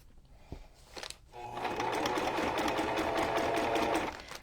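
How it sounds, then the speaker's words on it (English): Sewing machine running a straight stitch on a fabric junk journal cover, starting with a few soft clicks, then a continuous rapid mechanical whirring and chattering at close range. "I'm just using a normal straight stitch."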